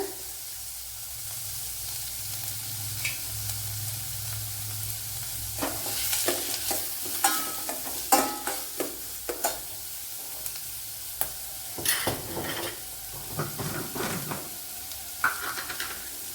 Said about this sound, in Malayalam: അതുപോലെ കറി ലീവ്സ് ഇട്ട് കൊടുക്കുക.